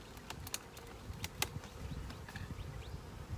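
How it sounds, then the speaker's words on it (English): Honeybees buzzing steadily at close range around an opened hive box, with a few sharper buzzy passes and light rustling, no voices. "since I don't really want the bees out of this box because they're on the honey"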